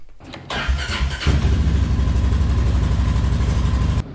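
A 2021 Polaris Sportsman 570 ATV engine cranks briefly, catches and settles into a loud, close, steady idle, with no talking over it.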